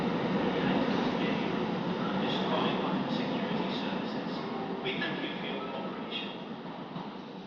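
A metro train passes through Park Lane Metro station, a broad moderately loud rolling rumble that gradually fades, with brief higher screeches and squeals near the end.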